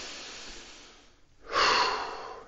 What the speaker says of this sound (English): you're just trying to take some big breaths in